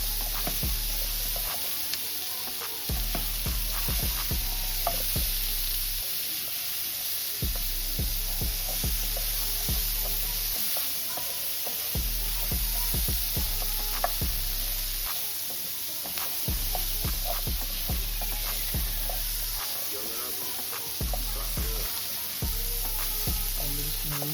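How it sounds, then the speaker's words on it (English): Onions, celery, garlic and carrots sweating in a pan over low heat for braised short ribs, a steady, fairly close sizzle with faint crackles and occasional stirring scrapes throughout. "Onions, celery and garlic and carrots just sweat off and just release some of its natural flavours."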